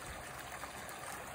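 Small trout stream trickling as a steady, soft, continuous wash of water, faint and even with no voices.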